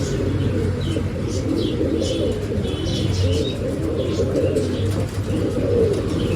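Pet pigeons coo in soft, repeated rounds close by, with light chirps scattered over a steady low murmur of birds, no talking.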